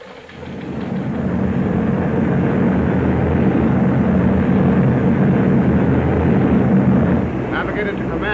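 A formation of 27 heavy bombers drones overhead at about 12,000 feet as it turns from south to east, giving a loud, steady, low rumble that swells early and holds throughout.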